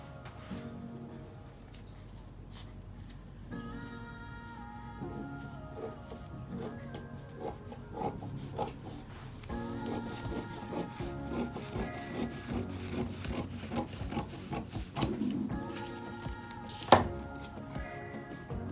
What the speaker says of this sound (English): I'm now going to cut that 10 inches, my original length that I need.